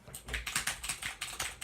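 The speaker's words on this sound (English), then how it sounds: "This is a mechanical keyboard test." Rapid typing on a Razer mechanical keyboard, a quick run of crisp, clacky keystrokes in an uneven rhythm, close and clear with no voice.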